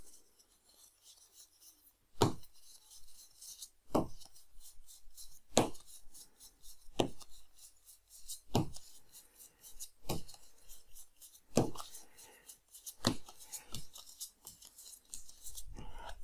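Cards from the Best Candy on the Block board game are dealt one by one onto a table, a run of about ten crisp, evenly spaced slaps and flicks, close and quiet in an otherwise still room.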